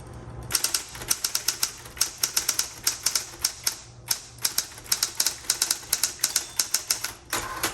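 A 1960s Smith Corona Coronet Automatic 12 typewriter is typed on in quick bursts of sharp, close keystrikes, with short pauses between the clattering runs.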